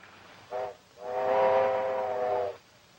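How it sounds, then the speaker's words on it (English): A steam train whistle blows twice, a short toot followed by a long sustained blast, clear and fairly close with no voices. "Why, he wouldn't be on that train, Sam."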